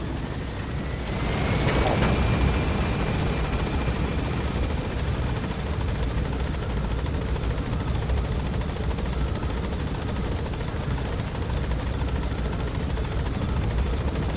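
A helicopter in the Metal Gear Solid V video game gains altitude with a loud, steady rotor and turbine roar that swells early and then holds constant and close throughout.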